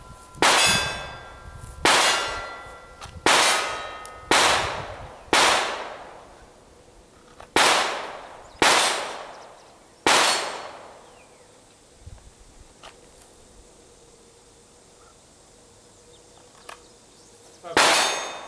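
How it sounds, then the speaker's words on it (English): Pistol shots after drawing from a Kydex pocket holster, with a Bodyguard .380, TCP, PF9 or 709 Slim: a run of sharp, loud, ringing outdoor reports in close groups, then a quiet gap and one last shot. "try to draw, make 3 shots, reholster"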